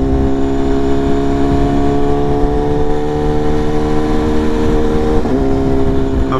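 A BMW S1000RR motorcycle cruises through Manhattan with a loud, close engine drone whose pitch climbs steadily, then briefly dips and rises again near the end, over rumbling road and wind noise.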